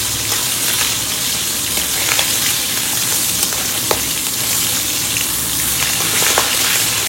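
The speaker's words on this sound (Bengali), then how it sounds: "তেলটা গরম হয়ে গেছে, এবার মাথাটা দিয়ে দেবো। এবার মাথাটা ভেজে নেব।" A hilsa fish head frying in hot oil gives a dense, loud, unbroken crackling sizzle, close and steady throughout, scattered with tiny pops and no voices.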